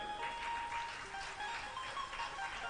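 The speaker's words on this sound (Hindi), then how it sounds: "अजमेरियों के लिए ताली बजा दो" A gathered crowd at a religious discourse claps for attendees from Ajmer, a faint, distant-sounding wash of applause that stays steady for under three seconds.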